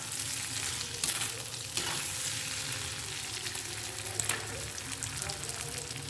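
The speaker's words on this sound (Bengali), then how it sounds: "চালটাকে দিয়ে ভালো করে নাড়িয়ে চাড়িয়ে নেবো, কিছুক্ষণ সময় ভেজে নেবো" Rice and raisins fry in a pan with a constant close sizzle while a utensil stirs and scrapes in occasional louder strokes; a voice is faintly present underneath.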